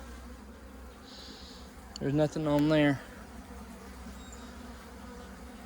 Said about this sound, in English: Good amount of bees.